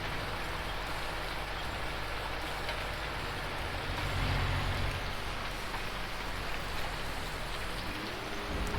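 Steady, dense rain pours down in Farming Simulator 19, a continuous even hiss of drops on surfaces with no talk, holding constant loudness and swelling slightly in the middle.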